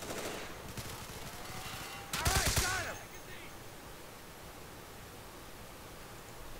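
Bursts of gunfire from the video game Insurgency, a dense crackling volley building under a steady hiss, then a louder cluster of shots around the middle before fading back to background noise; a voice is faintly present.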